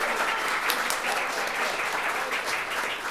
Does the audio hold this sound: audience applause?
yes